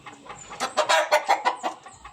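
A McLean over Pumpkin Gray gamefowl rooster clucks close by in a quick run of about six or seven short, rhythmic calls.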